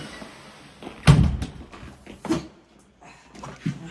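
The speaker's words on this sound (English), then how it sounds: "The door's sticking." A sticking door forced open and shut close by: a heavy thump with a scrape, a second thud a moment later, then quieter knocks separated by near-silent pauses.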